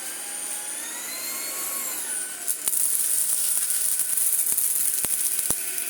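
Kalado KCV01 cordless vacuum cleaner running on its low setting: a steady, close high whine with a slowly gliding tone, then a run of sharp rattling clicks as debris knocks through.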